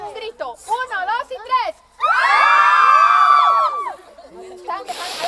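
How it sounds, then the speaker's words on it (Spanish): A group of girls at a children's consultation event shout together on a count of three, a loud, sustained high-pitched group scream lasting a couple of seconds, preceded by an adult voice counting aloud. "Mujeres, cuando cuente a 3, pegan un grito."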